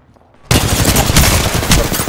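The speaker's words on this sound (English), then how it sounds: "Getting shot at." Loud rapid automatic gunfire erupts suddenly in a video game after a quiet moment, a dense burst of close shots that continues without pause.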